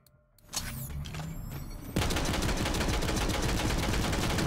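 A Gatling gun in Borderlands 3 whirs up with mechanical clatter, then opens into a loud, rapid, sustained stream of gunfire that keeps going without pause.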